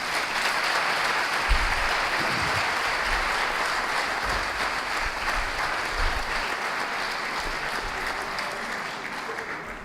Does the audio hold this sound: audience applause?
yes